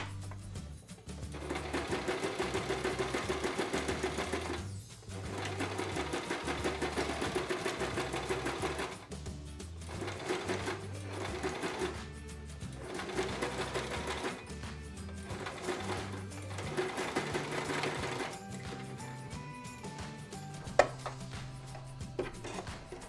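Sewing machine topstitching fabric for an apron: a loud, fast mechanical chatter that runs steadily for long stretches, broken by several brief pauses and ending in slower, lighter stitching.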